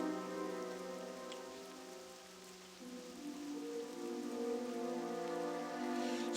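Steady rain patters across a rainy forest zone in World of Warcraft, a soft, even wash of drops under a sustained, faint musical drone.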